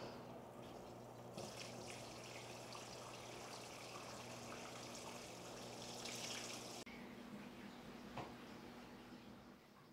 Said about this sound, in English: the water is done mixing, so it's time to start adding it to the tank